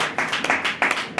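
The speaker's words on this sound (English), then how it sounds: "Give the Lord a mighty clap of praise." A church congregation at a Ghanaian service claps in praise, a few close, uneven bursts of hand claps over about a second, fairly loud with no talk.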